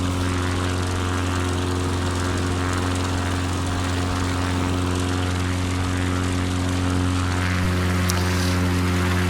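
Propeller aircraft engine drones steadily in flight over Kodiak Island, Alaska, a loud continuous hum with strong tonal harmonics heard from inside the cabin, unbroken throughout.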